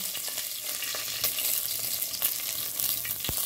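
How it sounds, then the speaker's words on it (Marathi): Mustard seeds, cumin and curry leaves sizzle and crackle in hot oil, a steady close frying hiss punctuated by sharp pops and spits, with no talking. "मोहरी चांगली तापते, जिरे टाकून देऊया, कढीपत्ता टाकून देऊया"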